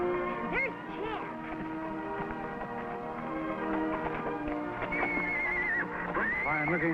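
A horse whinnies loudly over a busy mix of music and background voices, with a second rising neigh toward the end.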